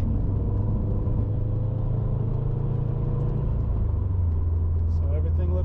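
A Subaru STI (GR/VA) in Sport Sharp mode drives under acceleration, its engine making a steady, loud, low rumbling drone heard from inside the car, with a slight shift in pitch toward the end.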